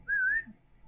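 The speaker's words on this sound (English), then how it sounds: "What if I whistle at the missus?" A man lets out one short rising whistle aimed at his wife, a clear, close tone lasting about a third of a second, followed by quiet.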